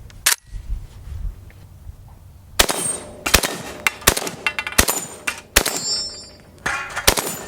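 Century Arms RAS-47 AK rifle fired outdoors: a single early shot, then after a pause a loud, close run of sharp cracks in quick irregular succession, each with a brief ringing tail.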